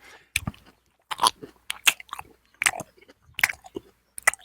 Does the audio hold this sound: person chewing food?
yes